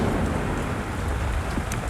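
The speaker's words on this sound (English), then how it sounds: "They're calling it the 100-year rain. It's coming down in sheets" Heavy rain pours down in sheets during an extreme storm, a dense, steady, loud hiss of drops hitting the ground with a low rumble underneath, and no voices.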